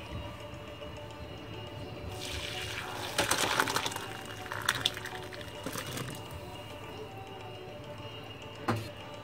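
Water drained off boiled Indian gooseberries (amla) while making murabba, a sweet pickle, in a home kitchen: a soft splashing pour that swells in the middle and tapers off, with a brief clatter near the end.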